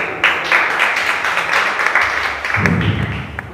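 Applause welcoming a guest at a Christmas program, a steady wash of many hands clapping from a sizeable crowd, continuing throughout with a low rumbling patch near the end.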